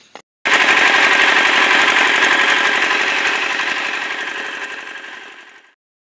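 A 5 HP Comet diesel engine starts with a sudden loud burst and settles into a steady, fast rattling chug close by, slowly fading over several seconds with no talk.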